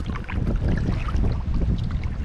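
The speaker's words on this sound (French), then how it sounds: "Les premiers coups de pagaie avec ma nouvelle pagaie." New canoe paddle strokes swish and splash through water close by, over a steady wash of wind and moving water.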